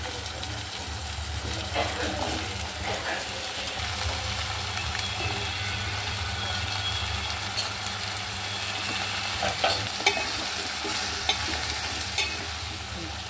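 Pumpkin pieces fry and get stirred in a pan on the stove for a red pumpkin vegetable dish, giving a steady close sizzle with scraping stirs and occasional clatter.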